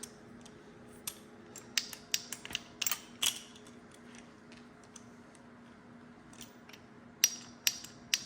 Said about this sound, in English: I think they call it a speed wrench or a speed ratchet.